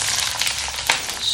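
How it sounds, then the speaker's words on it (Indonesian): Shallots, garlic and chili sizzling and frying in a pan, a steady close hiss of hot oil with faint crackles and no talking. "saatnya saya goreng bawang merah,"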